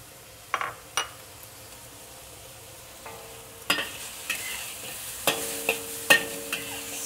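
Pork stir-frying in a wok with ginger, chilies and garlic: a soft steady sizzle under a series of sharp metallic scrapes and clinks from a spatula on the pan, spaced irregularly and growing more frequent.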